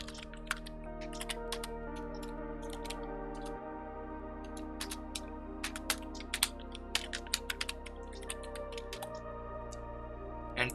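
Password being typed on a computer keyboard: scattered, quick key clicks in short irregular runs sit over a steady background of low sustained music tones, quiet and close, with no clear speech.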